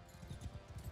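Horse hooves clip-clop in Mount and Blade II Bannerlord, a soft, rapid run of low thuds repeating about five times in under a second, muffled and steady with no other sounds over them.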